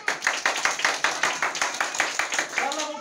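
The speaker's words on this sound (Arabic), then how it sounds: "تصفيق" Audience at a ceremony honouring two students for memorizing Quran chapters claps in a strong, regular rhythm, loud unified beats repeating about every quarter second, with a voice briefly heard near the end.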